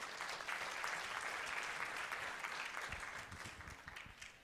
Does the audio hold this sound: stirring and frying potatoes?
no